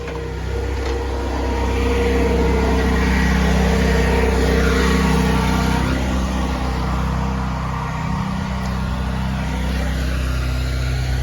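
A vehicle engine rumbles by outdoors, a loud steady drone that swells and fades gently across the whole stretch, without talk.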